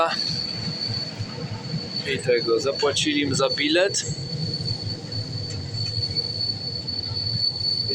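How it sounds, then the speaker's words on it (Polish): A PKP Intercity TLK train at a station in Poland gives a steady rumble with high, sustained wheel squeal, while people talk nearby over the noise. "Pociąg o taki PKP Intercity TLK."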